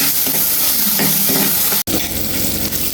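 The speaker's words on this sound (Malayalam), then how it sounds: "ഇനി ഒരു 2 ചെറിയ തക്കാളി ഇട്ട് കൊടുക്കുന്നുണ്ട്. അതൊന്ന് വഴറ്റിയെടുക്കാം." Two small tomatoes fry for Kerala-style egg curry in a loud, dense, close sizzle with stirring scrapes, cut by a brief dropout near the middle.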